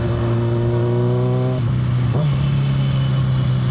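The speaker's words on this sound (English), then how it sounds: "we're out on the F4i, the old retired stunt bike." Honda F4i sport motorcycle ridden on the street, engine droning steadily then shifting and revving briefly under constant wind rush, heard close from the rider's position without talk.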